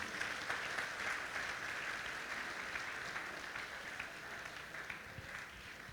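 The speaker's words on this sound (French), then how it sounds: "On nous applaudit, frères et sœurs qui visitent nous." A church congregation at a Sunday service claps steadily at a distance, soft and continuous, gradually fading slightly over several seconds.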